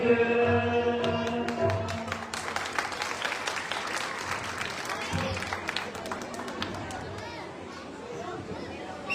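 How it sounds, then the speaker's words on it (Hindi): Audience applause at a stage performance of a Hindu epic, a dense burst of clapping that gradually thins out, mixed with chatter and children's voices. "जोरदार ताली जाती है"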